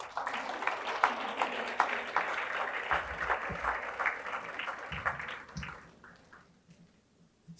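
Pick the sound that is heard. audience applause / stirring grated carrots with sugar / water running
audience applause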